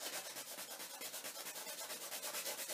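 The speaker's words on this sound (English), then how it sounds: "I'm going to sand it off just a little bit and polish it." Fine-grit sandpaper rubs dried glue-stick lumps off a handmade Death Note keyring in quick, even back-and-forth strokes, close and steady, with no talking.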